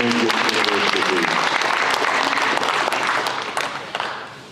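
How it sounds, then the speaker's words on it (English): An audience applauds at a high school National Signing Day, loud sustained clapping from a crowd that fades toward the end. "Let's give another round of applause for Chris Harris"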